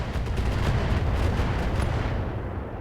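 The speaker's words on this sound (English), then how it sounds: "Artillery support is now going to be focusing on the Marauders." Heavy artillery fire in the mech strategy game BattleTech rumbles in a dense, continuous barrage of deep booms and blasts, loud and close, with no voices over it.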